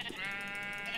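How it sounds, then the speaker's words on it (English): In the game Minecraft, a sheep gives a single wavering bleat lasting about a second, close and moderately loud with no talk over it. "Hey, sheep."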